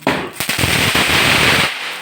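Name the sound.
Diwali firecrackers going off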